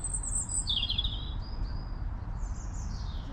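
Small birds chirp in short, bright tweeting phrases above a constant low outdoor hum among the Cambridge university colleges, a few calls coming close together and then trailing off.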